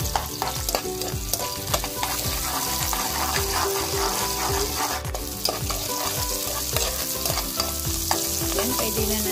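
Garlic sautéing in a pan, a dense continuous sizzle with rapid rhythmic scraping and clacking of a utensil stirring throughout, close and loud, with no talking.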